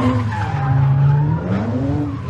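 A car spins through a 360-degree donut, its tires squealing loudly in a sustained, wavering screech over the roar of the engine, close and unbroken for about two seconds.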